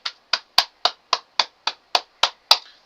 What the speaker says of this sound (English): let's clap it up for OKC and the Spurs